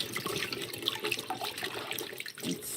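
Tap water runs steadily into a kitchen sink while food is rinsed for a codfish dinner being cooked at home, with splashing and faint clatter throughout and no talking.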